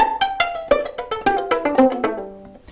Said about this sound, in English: flicking the string with the left hand as well